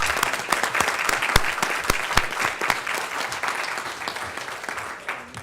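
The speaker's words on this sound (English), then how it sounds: "let's give them a round of applause" Applause fills a city council meeting chamber as a group of women is honored, steady clapping with a few sharp individual claps standing out, fading slightly toward the close.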